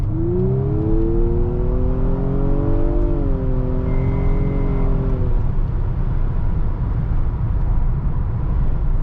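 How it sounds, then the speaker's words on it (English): A 2023 Nissan Maxima SR accelerating hard down a road: the engine note climbs steadily in pitch with a brief dip around a gear change, over loud wind and road roar, and no one speaks. "Let's test the acceleration going down here."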